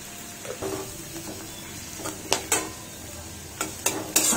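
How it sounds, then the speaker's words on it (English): Vegetables sizzle steadily in a pan on the stove while a utensil stirs and scrapes against the metal in irregular clanks, loudest toward the end, all close up with no talking. "these veggies are fried nicely"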